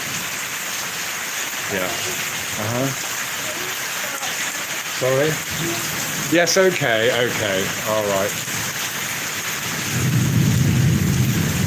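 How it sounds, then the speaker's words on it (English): A thunderstorm with steady rain pours outside at night, a dense constant hiss with a rumble swelling near the end, while a person speaks briefly over it. "Okay, you have a good storm."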